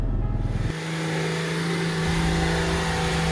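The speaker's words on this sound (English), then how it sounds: "The mighty Nissan patrol of the Geco Tribe Charges was powering its way up the hill" A Nissan Patrol powers up a steep hill during the Rhino Charge 2025 off-road competition. A deep, rumbling engine settles into a loud, steady drone as it climbs, close and continuous.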